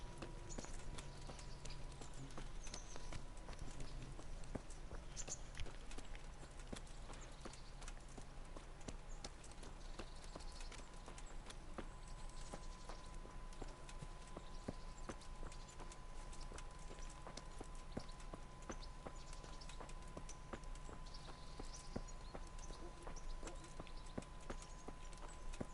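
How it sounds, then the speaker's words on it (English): Steady clip-clop of horse hooves in the video game Kingdom Come: Deliverance, continuous and even, under a faint droning background with no talking. "I don't want to get that horse."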